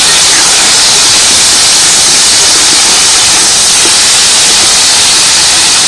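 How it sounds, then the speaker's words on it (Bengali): Pumpkin mash frying on a hot tawa makes a loud, steady, close hiss that fills the whole stretch without pause, and no one speaks. "একটু তাওয়া দিয়ে ভালো করে ভেজে নেব এই ভর্তাটা আরও একটু"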